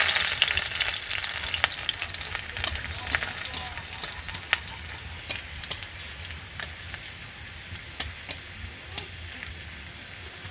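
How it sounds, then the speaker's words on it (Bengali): Chopped garlic fries in oil alongside dried red chilies, a soft steady hiss dotted with sharp scattered crackles and pops that thin out gradually, with no talking. "লাল লাল করে ভেজে নিয়ে এর মধ্যে দিয়ে দিতে হবে কুচিয়ে রাখা রসুনগুলো"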